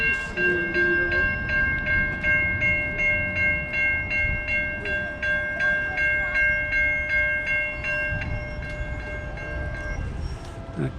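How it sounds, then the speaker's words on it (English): A train rumbles steadily into a New Jersey commuter station on a Sunday morning, its rhythmic clatter of wheels over rail joints mixed with a sustained high-pitched tonal whine. "And here comes a train."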